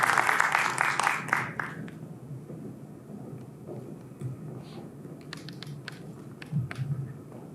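Audience applause welcoming panelists at a public health panel session, a burst of clapping in the opening two seconds that quickly fades into quiet room murmur.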